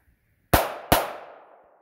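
Two sharp pistol shots at an outdoor shooting range, about a third of a second apart, each ringing out with a long decaying tail; quiet before and between.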